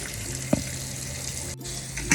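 Water runs steadily from a tap in a continuous hiss, close and fairly loud, with a couple of brief clinks.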